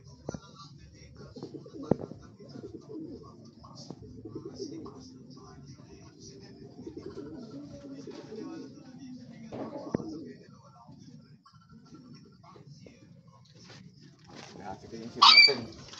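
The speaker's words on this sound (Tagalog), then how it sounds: "Ay, mga ibon natin ha." Racing pigeons coo softly at the loft during a derby in Tagudin, Ilocos, with low murmuring calls under intermittent talk and a brief sharper bird sound near the end.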